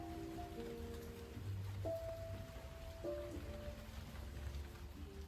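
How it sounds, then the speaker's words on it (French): Rain falls on leaves outdoors during an autumn walk, a steady soft hiss with gentle sustained tones drifting over it. "La pluie qui tombe sur les feuilles, c'est super agréable."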